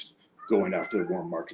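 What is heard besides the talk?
cat meowing in the background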